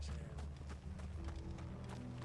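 Hooves of horses clopping along in Final Fantasy XVI, a quick faint run of muffled beats layered over a low droning background for a couple of seconds, with no voices.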